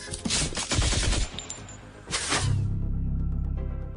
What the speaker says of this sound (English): The first guard fires his autocannon at Raya.